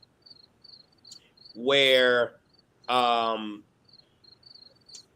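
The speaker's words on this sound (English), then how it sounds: "is that crickets in the background?" Steady, faint cricket chirps pulse in the background at night-like quiet, interrupted by two short bursts of loud speech.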